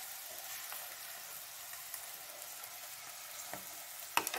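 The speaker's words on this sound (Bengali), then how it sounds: "ভাজিয়ে গেলাম, আস্তে করে উল্টাচ্ছি।" Chicken bread rolls frying in oil, a soft steady sizzle that flares briefly at the end with a couple of clattering knocks as they are turned.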